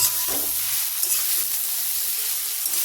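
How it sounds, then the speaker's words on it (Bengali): A metal spatula stirs sliced onions frying in a wok for lemon chicken, giving a steady close sizzle with scraping strokes near the start and around the one-second mark. "আমি খুন্তি নাড়ছি"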